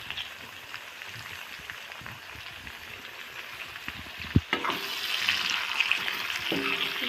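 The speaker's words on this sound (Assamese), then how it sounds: "বিলাহীখিনি দি অলপ সময় আকৌ ভাজি থাকিম।" Meat and tomatoes frying in a pan, a soft steady sizzle with crackling that grows brighter after a utensil clinks against the pan midway.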